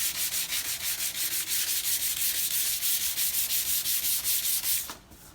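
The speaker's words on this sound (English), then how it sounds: "just keep on sanding till you finish everything" Steady, continuous sanding of a car body with a rhythmic back-and-forth rasp, loud and close, stopping abruptly near the end.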